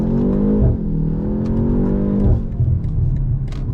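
A 2025 BMW M235 Gran Coupe accelerating hard with its push-to-pass boost, the engine note rising loudly then dropping at a downshift and climbing again, heard from inside the cabin with road rumble, no talking.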